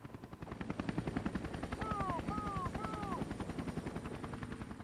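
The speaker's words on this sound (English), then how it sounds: "There's a helicopter." A helicopter in the video game Prototype thrums with a steady, loud rotor chop, its pulsing beat close and constant, with short whistling tones gliding over it partway through.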